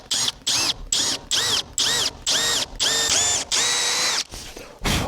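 A cordless drill carving a deer antler thumbstick whines close and loud in short bursts, each pulse rising in pitch as it revs, repeated about eight times with brief gaps and a longer final run.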